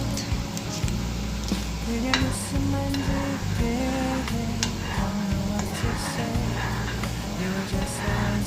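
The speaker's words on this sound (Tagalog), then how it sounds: "pwede na natin ilagay yung seasoning powder na nanggaling mismo dun sa instant noodles. And then, i-mix lang natin siya" A spoon stirs seasoning powder into boiling instant noodle broth in a pot, scraping and clinking steadily over a constant bubbling hiss. The stirring runs without a break and sits close.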